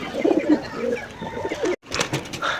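Pigeons cooing close by in a loft, a few throaty, rolling coos in quick succession, broken by a brief pause.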